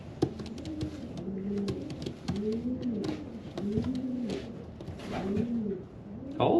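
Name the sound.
racing pigeons cooing in a loft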